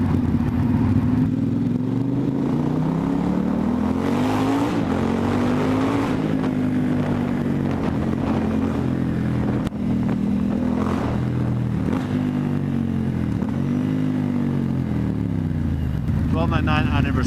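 Ducati X Diavel S motorcycle with a Termignoni exhaust revving repeatedly, loud and close, its deep rumble rising and falling in long swells.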